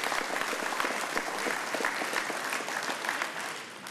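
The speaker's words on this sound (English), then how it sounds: "Let's give them another great round of applause for this announcement." Audience applause at an energy technology company's jobs announcement, a dense steady clapping from a large crowd that carries on strongly through the moment and eases slightly at the end.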